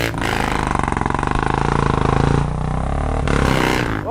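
Dirt motorcycle engine straining loudly and close while climbing a steep trail at an off-road hill-climb event, with a pulsing, throbbing roar that dips briefly before surging again.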